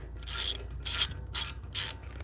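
Ratchet with a metric socket clicks on a Ford FE engine intake, three quick close bursts of rapid ratcheting over a low steady hum, fairly loud with no talking.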